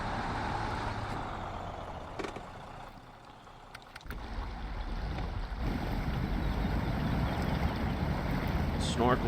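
A heavy Russian truck in SnowRunner wades through a strong river current, engine droning under rushing water and splashing that swells toward the end, with a brief chirp near the close.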